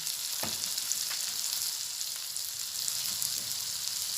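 Curry leaves and salt fry in hot oil with bitter gourd pieces, giving a soft, continuous sizzle with a few faint clicks and pops.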